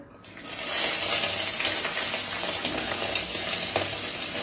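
Spices hit a little hot oil in a pan with a sudden loud, steady sizzle that holds close and bright for several seconds.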